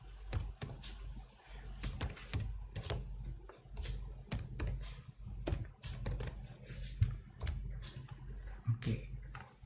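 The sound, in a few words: typing ipconfig/all command on computer keyboard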